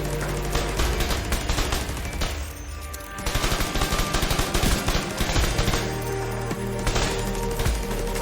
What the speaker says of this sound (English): Now I've got my turret set up here, and I'm just going to shoot that to proc spike